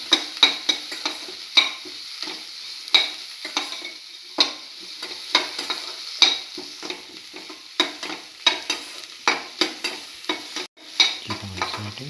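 Beef liver sautéing with ginger and shallot in a pan, a steady sizzle punctuated by frequent sharp scrapes and taps of a spatula stirring, close and continuous for the whole stretch with no talk.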